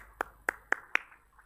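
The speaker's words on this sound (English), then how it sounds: "Dhaval bhai, everybody who's part of the NJ, I think we can just clap for your contribution." Four distinct hand claps, evenly spaced and fairly close, with quiet background between them.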